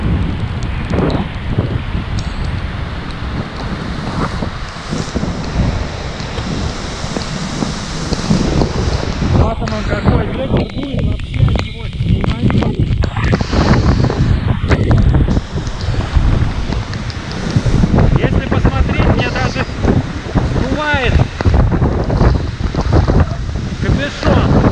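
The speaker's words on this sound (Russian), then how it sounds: "Просто разбушевавшийся водопад." The Uchan-Su waterfall in Yalta in full flood: a loud, continuous roar of rushing water with heavy wind buffeting the microphone throughout, dense and unbroken from start to finish.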